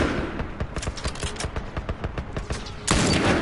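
Rapid gunfire from a gun in the video game The Last of Us, a quick continuous stream of sharp shots, followed near the end by a louder, denser burst of noise.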